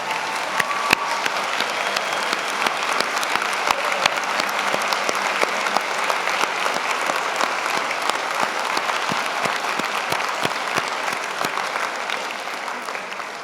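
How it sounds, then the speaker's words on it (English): A large convocation audience at a university graduation ceremony gives sustained applause, a steady roar of many hands clapping at an even level with scattered sharper claps close by. "Graduates, a round of applause,"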